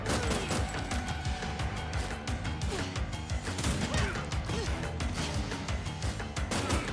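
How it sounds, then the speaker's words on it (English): Rapid, punchy gas grenade launcher blasts and crashing impacts from the Terminator 2D video game fire in a dense, continuous barrage, loud and close throughout. "I love the sound that gas launcher makes as well when Arnie's using it. A very satisfying thunk."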